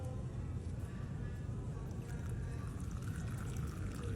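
Water pours and splashes steadily while a small turtle is washed, a continuous close, wet rush with low gurgling throughout.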